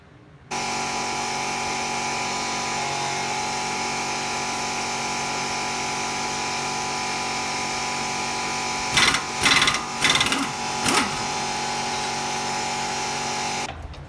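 Subaru WRX STi wheel hub turning on a freshly installed wheel bearing, a steady close mechanical whirr running throughout, briefly interrupted near the end by a few louder knocks and rattles.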